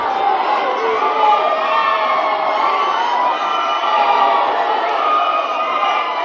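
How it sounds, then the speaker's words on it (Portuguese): An angry crowd roars and shouts in a gymnasium during an intermunicipal futsal match, a dense, constant wall of jeers and cries with a commentator's voice briefly over it. "E a torcida fica enfurecida aqui no ginásio."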